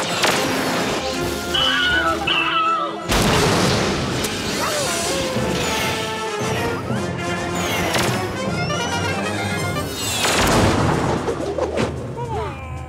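Cartoon spaceship weapons fire in a Garfield space battle, loud booming blasts and crashing bursts packed under a busy soundtrack of music and effects, with characters talking over the action.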